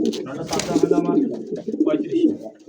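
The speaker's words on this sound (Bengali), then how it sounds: "এটা ডাকটা একটু শুনি দেন। দেখছেন এটা ডাক ভাই, সিঙ্গেল নর।" A male Lahori pigeon, a U-shaped toy Lahori, coos up close in a rolling, throaty series of low repeated calls.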